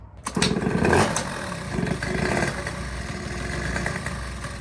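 A small scooter engine catches and starts with a sharp burst, then settles into a steady, rough running chug close by, with no talking.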